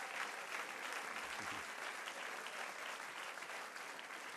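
Steady applause from a church congregation, a continuous patter of clapping heard from a distance without a break.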